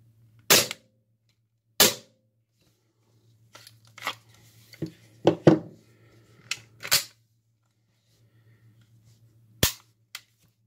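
An airsoft Smith and Wesson M&P9 pistol fires single sharp snapping shots, spaced irregularly with pauses between, close and crisp, with quieter handling clicks and rustles in between over a faint steady hum.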